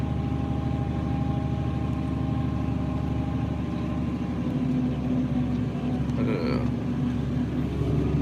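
A tractor engine runs steadily in a field during vertical tillage, a constant loud droning hum heard from inside the cab, with a brief faint higher tone near the end.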